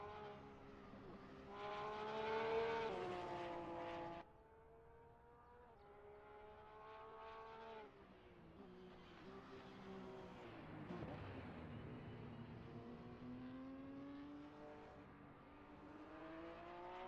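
Porsche 911 GT3 R race car in a video game at Mugello, its engine swelling loudly, then dropping at a shift and winding up again through rising and falling revs, with no talk over it.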